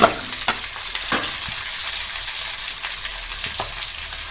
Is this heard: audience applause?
no